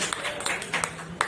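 An audience at a Hindi poetry gathering claps in a loose, moderate patter of scattered handclaps, fairly close and steady for a moment.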